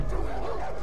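A large dog in the video game Far Cry 5 gives a short, close bark-like woof, loud and low, with a game soundscape around it.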